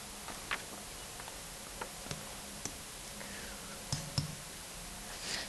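Calculator buttons are pressed in a quiet room, giving a handful of faint, sparse clicks spread at uneven intervals over a low steady background hiss.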